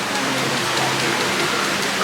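Water flowing and splashing steadily in the treehouse at Magic Kingdom, a continuous close rushing patter like rain falling on a surface.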